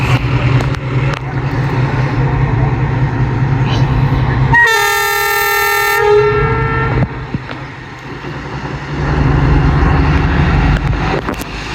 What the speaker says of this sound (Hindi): thirteen up Awam express with ZCU 26407 departure हो रहा है जी अटक सिटी जंक्शन से पेशावर के लिए